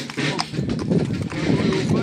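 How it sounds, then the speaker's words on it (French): A horse walks at a steady pace during a street procession, its hooves clip-clopping in a regular rhythm nearby while people talk over it. "Le cheval, il est au pas, regarde."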